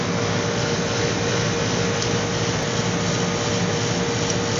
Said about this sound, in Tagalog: testingin natin itong compressor na to